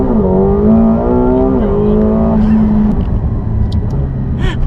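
A McLaren 720S launches hard, its engine roaring loud and close as it climbs through rising revs, with a gear shift partway through before the pull continues and fades slightly.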